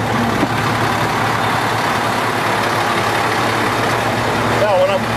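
Fire truck engine idling steadily in pump gear, a continuous low diesel rumble with a faint whine near the end, loud and close throughout.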